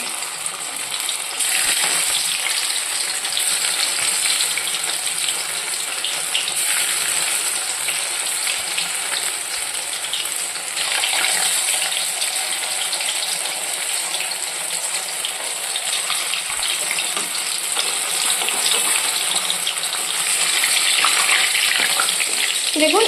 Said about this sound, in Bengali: এইভাবে আমি খুব ভালো করে প্রত্যেক কটাই ভেজে নেব